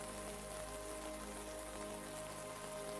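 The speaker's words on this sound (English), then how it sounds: "The drizzle brushes lightly against her umbrella as she begins walking down the quiet street." Light drizzle patters softly and continuously on an umbrella along a quiet street, a faint even hiss of fine drops with no distinct rhythm.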